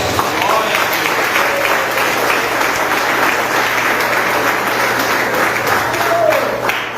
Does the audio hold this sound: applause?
yes